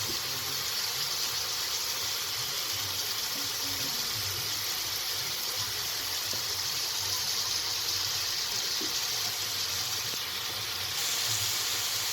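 Country chicken frying in a pan with ginger, garlic and chilli powder: a steady, close sizzling hiss that runs without a break and barely changes.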